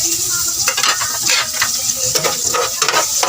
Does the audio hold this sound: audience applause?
no